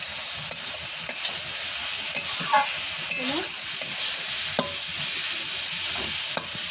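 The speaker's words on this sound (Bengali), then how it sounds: "ভালো করে লাল লাল করে ভেজে দেবো, আর ঢাকা দেবো না, যেহেতু পটলটা ভাজা হয়ে গেছে" Pointed gourd (potol) fries in a pan with a steady sizzle, while a spatula scrapes and knocks against the pan at irregular moments, all heard close up without any talking.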